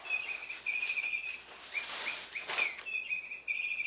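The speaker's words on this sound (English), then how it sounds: "That's a cat toy bird chirping." A cat toy bird chirps in repeated thin, high electronic tweets and warbles over a soft hiss of background noise, fairly close, with brief rustling between the calls.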